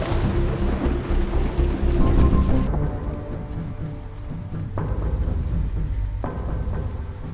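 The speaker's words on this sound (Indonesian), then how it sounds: "Gue hujan-hujanan aja jalan kaki." Heavy rain pours down steadily in a loud, dense wash, with deep rolling thunder rumbling underneath and a sharper crack breaking through partway.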